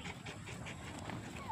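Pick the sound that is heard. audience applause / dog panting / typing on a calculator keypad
dog panting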